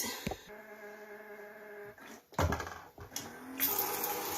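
A small toy tap hums and clicks, then water starts gushing and splashing more strongly toward the end.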